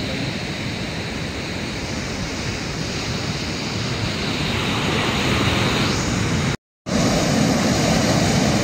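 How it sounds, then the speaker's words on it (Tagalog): Strong ocean waves churn during a typhoon, making a continuous, loud roaring surge mixed with wind buffeting the microphone and broken by a brief dropout near the end. "Super lakas ang alon."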